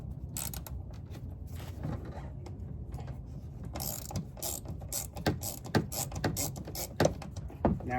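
Ratchet loosening the screws on a car's side marker light, with rapid repeated clicking bursts, close and fairly quiet, that grow busier toward the end.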